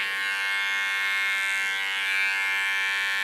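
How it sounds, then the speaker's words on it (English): A large electric hair clipper trimming the hair contour at a hairdresser's, a steady close buzzing hum that holds without break, no talking. "Cleaning contour with my large clipper."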